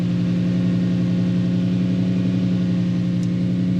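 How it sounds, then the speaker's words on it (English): A worn Toyota starter motor cranks the engine in a steady, even rhythm of fast repeating pulses, loud and close, with no talk. "Now I'll crank it again. Yep, the starter motor is getting tired."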